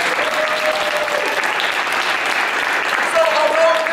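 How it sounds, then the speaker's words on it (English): Live audience applauding at a theatrical Christmas Carol show, steady dense clapping that swells slightly near the end, with some crowd noise mixed in. "So applause for that."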